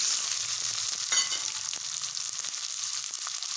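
Mustard seeds, cumin and small onions fry in hot oil with a steady, close sizzle and a brief louder crackle burst early on; no one speaks.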